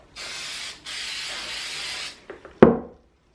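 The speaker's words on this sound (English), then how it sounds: "Spray." Repositionable spray adhesive is sprayed onto fabric in two hissing bursts, each about a second long, close to the mic, followed by a few light rustles and a sharp tap as the fabric is handled.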